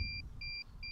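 Drone controller emitting three short, evenly spaced high electronic beeps while trying to connect to a drone, clear and close over a low rumble.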